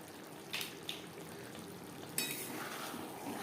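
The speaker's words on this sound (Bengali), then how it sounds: "গ্রেভির সাথে বেশ ভালো করে মিক্সড করে দেব" Slit green chilies and chopped coriander are stirred into a simmering fish curry gravy: a soft, low sizzle broken by a few brisk scraping strokes of a spoon in the pan.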